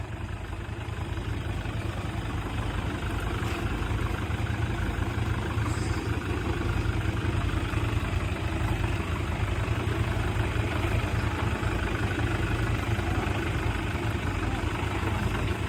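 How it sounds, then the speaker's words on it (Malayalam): A Toyota Fortuner idles during a turn on an off-road trail, giving a steady low engine rumble that runs evenly throughout at moderate loudness, with no speech over it. "ഫോർച്യൂണർ എടുത്തിട്ടുണ്ട് കേട്ടോ തിരിക്കാൻ വേണ്ടിയിട്ട്"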